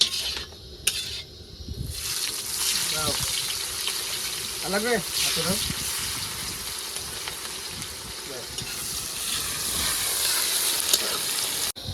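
Onion, dry red chili, bay leaf and whole cumin fry in oil for a pangas fish curry cooked outdoors, a loud continuous sizzle and hiss with voices talking over it.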